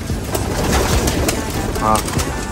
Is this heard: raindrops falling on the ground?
no